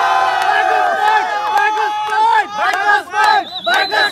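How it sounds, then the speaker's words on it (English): Close crowd cheering for rider number 333, Nimesh Thakuri, with loud overlapping yells and whoops rising and falling in waves. "Can we have a round of applause?"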